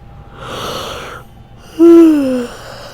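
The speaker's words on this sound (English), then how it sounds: "Does hearing me yawn, even though you can't see it, does that make you yawn?" A man lets out a long yawn up close: a breathy inhale first, then a loud, falling, voiced sigh that trails off.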